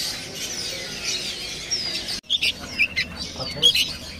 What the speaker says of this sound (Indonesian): Ini ada burung kutilang